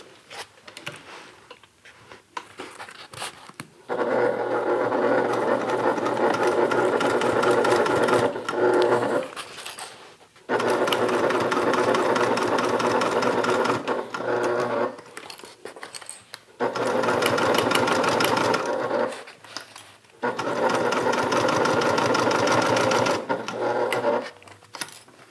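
A sewing machine stitches through a thick bag pocket in several long, steady whirring runs of a few seconds each, separated by short pauses, fairly close and loud.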